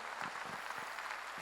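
Applause from a church congregation at a revival meeting in Korea, a steady dense wash of clapping filling the whole short stretch with no voices on top.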